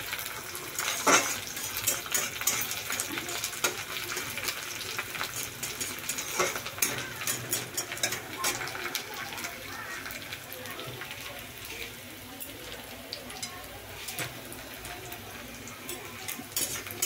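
Onions and curry leaves frying in a pan give a continuous crackling sizzle with scraping and clattering of a spoon against metal, while a voice talks over it.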